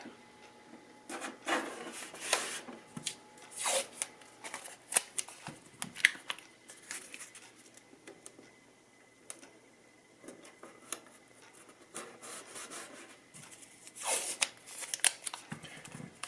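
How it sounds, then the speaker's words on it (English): Low-tack tape being pulled and pressed onto a guitar body near the binding, giving soft, faint bursts of sticky peeling and rubbing at scattered moments, with quiet gaps between them and no talking. "I'm going to start with kind of taping it up here"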